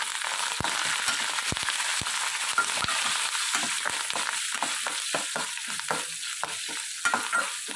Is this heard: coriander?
yes